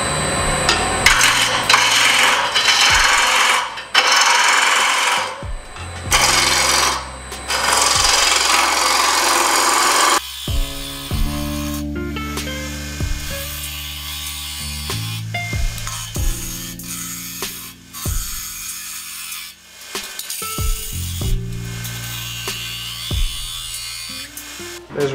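Wood lathe turning a wooden menhir shape, with intermittent scraping and rubbing of the tool against spinning wood, broken by pauses, shifting tones and occasional knocks.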